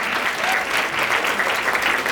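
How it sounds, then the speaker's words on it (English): Audience at a fashion show applauding sponsors, a continuous full burst of hand clapping that stays steady and fairly loud for a couple of seconds with no voice over it. "let's give them a hand clap"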